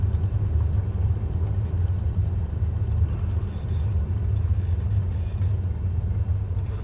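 An airliner rolls out and brakes after touchdown in Microsoft Flight Simulator 2020, giving a steady, loud low rumble with a constant engine whir throughout, no talking heard.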